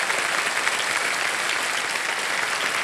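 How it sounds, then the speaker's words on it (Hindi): Studio audience applauding on a televised quiz show, a steady, even wash of clapping from a large crowd with no pauses. "तालियों के साथ इनका अभिनंदन।"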